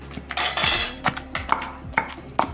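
Finely chopped onions are coarsely pounded with a pestle for Guntur gongura sesame pickle. Repeated sharp knocks land roughly every half second, close and clear, with no talking.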